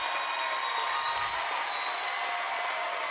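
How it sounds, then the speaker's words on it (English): Both sides of an arena crowd at a 4A North Regional Finals boys basketball game stand and clap for substitutes, a steady wash of applause filling the space without a break. "Both sides of the arena all standing up and clapping right now"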